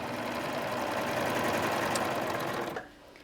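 A sewing machine stitches ribbing onto a V neck with a steady, fast, close mechanical whir that runs for nearly three seconds, then stops abruptly.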